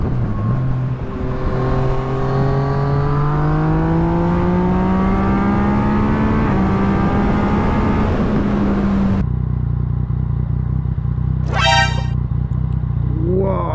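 A Yamaha MT-09 three-cylinder motorcycle engine revs steadily with rising and falling pitch, loud and close, then drops to a rough idle with a brief high whine near the end.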